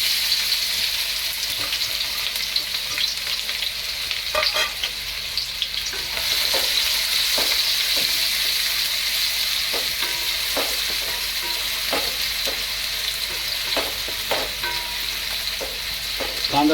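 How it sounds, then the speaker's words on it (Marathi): Onions frying golden brown in hot oil while being stirred, a steady loud sizzle with spatula scrapes and clinks throughout, close up. "आता कांदा असा मस्त गोल्डन फ्राय होतोय"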